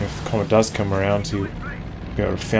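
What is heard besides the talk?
No everyday noises stand out.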